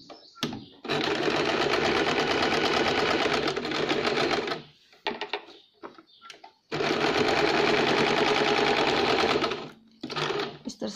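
A sewing machine runs a double line of stitching on the lining of a katori blouse, in two long, steady, loud bursts separated by a short pause with small handling noises.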